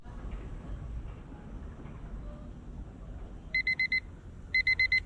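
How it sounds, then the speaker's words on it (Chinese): A small digital countdown timer alarm ringing after its countdown ends, sounding two bursts of four rapid, bright electronic beeps over a low, quiet background. "那它倒数完之后就会闹铃"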